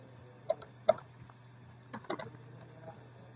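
Keystrokes on a computer keyboard while entering code, a few sharp isolated taps followed by a quick cluster of clicks, close against a low steady hum.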